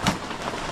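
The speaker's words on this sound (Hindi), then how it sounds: "बाहर से बारिश बहुत तेज़ हो रही है।" Heavy rain falls on a tent at night during jungle camping, a dense, close wash of drumming drops that stays steady and loud throughout.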